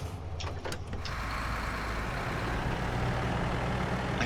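A 50-70 truck in the video game Expedition drones steadily as it drives across, a dense, unbroken engine rumble with a few brief clanks at the start.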